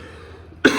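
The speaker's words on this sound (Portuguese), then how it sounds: "Desculpe pela tosse." A single sharp cough, near and loud, at the end of a quiet pause during a Portuguese-language lecture.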